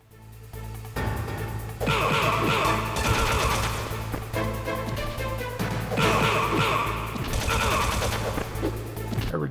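Rapid bursts of automatic gunfire and single shots from Metal Gear Solid (Master Collection), loud and dense for most of the stretch over a low droning game soundtrack, with a brief quieter lull before the firing resumes.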